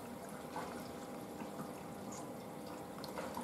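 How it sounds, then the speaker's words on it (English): Water swishing and trickling steadily inside a Blomberg washing machine during its final rinse stage on a dark colours wash, a soft continuous wash at low level with no voices. "we're now into final rinse"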